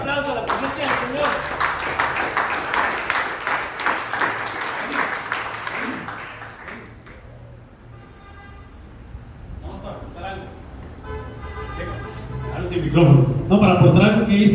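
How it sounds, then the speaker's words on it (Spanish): Church congregation applauding strongly and steadily for several seconds, then fading to a quieter lull before clapping and voices swell again near the end. "Puedes darle un fuerte aplauso a la presencia del Señor"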